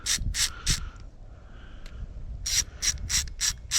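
A ratchet loosens bolts on a Yamaha outboard's thermostat cover: three quick clicking bursts, a pause, then five more rapid ratcheting strokes, close and fairly loud.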